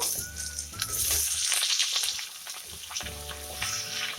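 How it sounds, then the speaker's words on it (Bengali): Cut ridge gourd tipped into potatoes already frying in hot oil, setting off a steady close sizzle with a louder crackling burst in the middle, heard alone with no talk. "এবার আমি এর মধ্যে কেটে রাখা ঝিঙেগুলো দিয়ে দেব"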